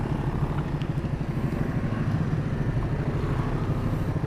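A Honda CB150R motorcycle with CBR-style handlebars rides at an easy pace through a village, its engine giving a steady, continuous drone close by, with no talk.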